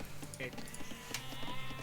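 Pastured sheep in the strategy game Rome at War give short bleats amid a dense mix of game music and effects, moderately loud, with a few brief tonal calls.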